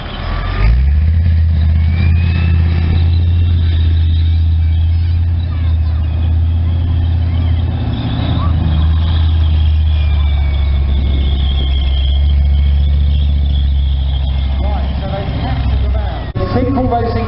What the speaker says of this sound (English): So you can see the reconnaissance vehicle, it's working its way forward